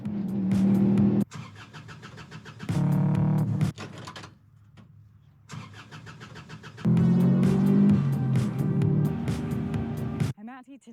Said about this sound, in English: I heard that there's going to be some turbos coming past